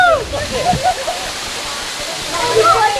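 A waterfall at a Ganga pilgrimage site, held sacred by pilgrims, roars as a steady broadband rush throughout, with faint chirping sounds on top.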